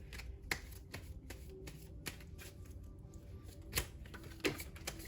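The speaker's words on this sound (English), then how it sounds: "a lot of cards here, so I'm gonna shuffle again" A deck of tarot cards is shuffled up close, giving a run of crisp riffling snaps and soft slaps at an uneven rhythm, with no speech.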